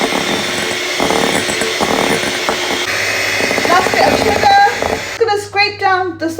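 An electric whisk beats meringue in a bowl with sugar, giving a steady buzzing whir for several seconds before stopping, after which a voice speaks.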